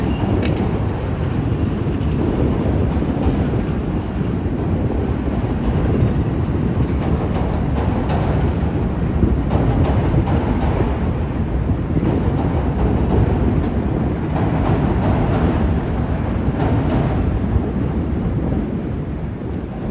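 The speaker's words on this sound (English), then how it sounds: "There goes the train. This is the Brown Line." A Chicago L Brown Line train rumbles past in the Loop, a loud, continuous rolling clatter lasting the whole stretch, with wind buffeting the microphone.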